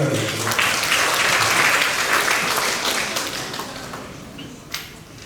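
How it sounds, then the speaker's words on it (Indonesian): Audience at a public service standards workshop in Nusa Tenggara Timur applauding, a dense sustained wave of clapping that gradually fades over several seconds. "Tepuk tangan."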